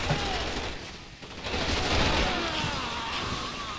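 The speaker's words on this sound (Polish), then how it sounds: "Co oni tu do nas strzelają?" Continuous bursts of video game gunfire in Resident Evil 6, dense and noisy, rattling on steadily with little pause over a few seconds.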